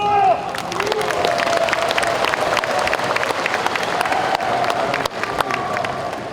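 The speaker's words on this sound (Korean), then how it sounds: "박수!" Sustained applause from an audience filling a gymnasium at a veterans' Orange Day ceremony, dense steady clapping with some crowd noise, loud and continuous throughout.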